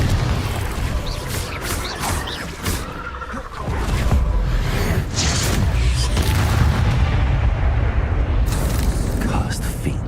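A Confringo blasting-spell explosion in Hogwarts Legacy, played on Hard mode, lands as a heavy, loud boom that rolls into a sustained rumble and keeps going amid other battle noise, with game chatter over it.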